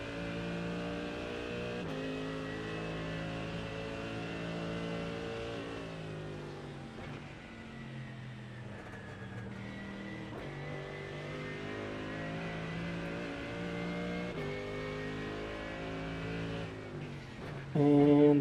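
Race cars in the iRacing sim race at Sebring on a wet track at night, engines whining and shifting through gears in long rising and falling sweeps, loud and continuous.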